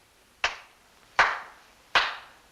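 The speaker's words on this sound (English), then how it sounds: "I clap my hands 3 times" Three sharp hand claps, evenly spaced about three quarters of a second apart, each ringing briefly in a quiet room, spoken as part of a stage scene in the 1950 Cyrano de Bergerac film.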